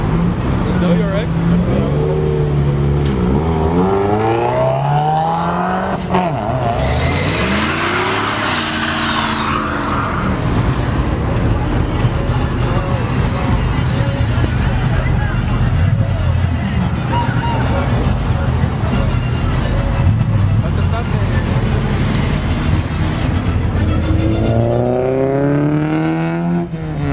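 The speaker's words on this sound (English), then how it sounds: "he's gonna do a burnout" A car doing a burnout at a busy car meet, engine roaring loud and steady throughout with revs rising and falling, tire noise mixed in, while people talk and shout over it.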